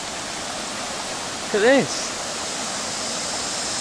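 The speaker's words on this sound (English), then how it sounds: "The waterfalls are here." A river with waterfalls, big rock formations and deep and shallow stretches in Thailand makes a steady, even rushing roar that runs through the whole stretch, briefly overlaid by a short spoken remark in the middle.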